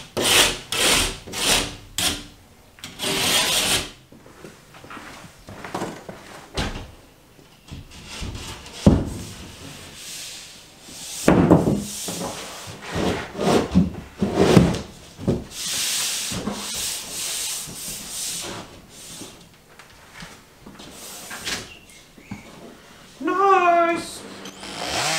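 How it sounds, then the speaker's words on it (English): Drywall being back-scraped during a mobile home bedroom renovation gives repeated harsh, rasping scrapes in uneven bursts, close and fairly loud, with brief pauses and a squeaky screech near the end. "this is some more of that technique of back scraping the drywall to smooth out the cut"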